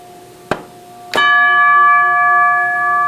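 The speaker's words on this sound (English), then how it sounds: "Let's start with the pull chords. First one being a chime." Chime effect from the pull cord of an American Fotoplayer, two sharp metallic strikes, the second ringing on loud and bright with a long sustained bell-like tone that slowly fades.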